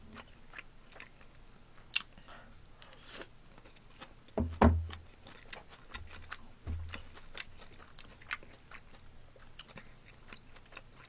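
Close, wet chewing and biting of Andong braised chicken (Korean soy-braised chicken) during an eating broadcast, steady mouth sounds with a few sharper crunchy bites and no speech.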